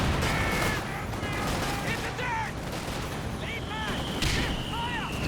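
Battle sounds from a Company of Heroes 2 match, a concussive grenade blast amid continuous gunfire and artillery rumble, with whistling shells and distant booms under a commentator's voice.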